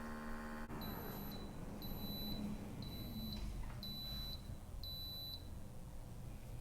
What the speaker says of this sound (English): So there's a series of beeps indicating that it's done.